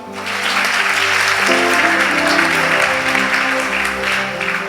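A church congregation applauding and cheering loudly, dense sustained clapping from a large crowd with a sustained musical tone underneath and voices mixed in.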